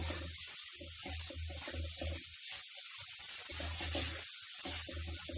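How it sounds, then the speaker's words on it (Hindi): Raw banana kofte fry in a pan of oil with a continuous bright hiss and sizzle, close and moderately loud, steady throughout. "हम अच्छे से फ्राई कर लेते हैं"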